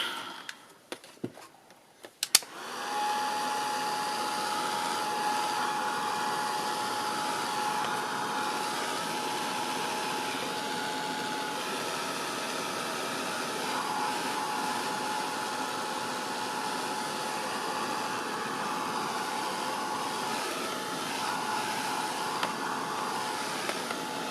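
A heat tool drying spray ink on a paper journal page gives a steady, loud blowing whir that starts after a few brief clicks and runs unbroken to the end, with no talk over it.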